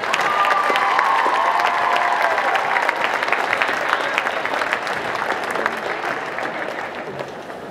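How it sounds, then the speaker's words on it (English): A crowd at a high school drumline's friends and family event applauds the parents, a dense, steady wash of clapping that stays loud throughout and tapers slightly toward the end. "So please give the parents a round of applause."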